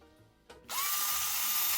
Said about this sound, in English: Our milk is hot now, and we are going to attempt to froth one more time.